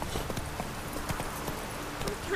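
Horse hooves clip-clop at a steady walking rhythm in The Witcher 3, each footfall close and crisp, with no talking over the sound.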